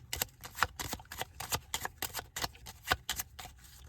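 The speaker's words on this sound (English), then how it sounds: "Give these a shuffle." A deck of cards being shuffled by hand during a tabletop deckbuilder game, a quiet run of crisp riffling bursts in quick rhythm, close and alone with no talk.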